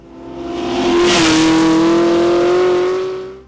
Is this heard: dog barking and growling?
no